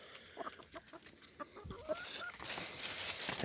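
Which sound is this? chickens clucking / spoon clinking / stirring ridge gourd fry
chickens clucking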